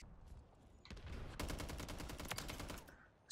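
Rapid automatic gunfire from Call of Duty Modern Warfare 3, a sustained burst of fast repeated shots that is faint overall, following a few scattered earlier shots.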